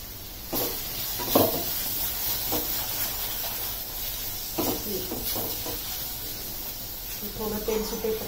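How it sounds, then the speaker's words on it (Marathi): Masala paste for Kolhapuri chicken fries in a little oil with a steady close hiss and sizzle, broken by a few brief crackling bursts, while a voice talks over it. "ही पेस्ट आपण अगदी थोडं तेल टाकून परत एकदा भाजून घेणार आहे छानपैकी।"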